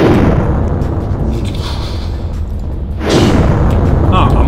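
Cannons firing in the video game Wizard Tycoon, heard as a continuous heavy, booming roar. A second loud blast swells in just after the three-second mark, with someone talking over the din.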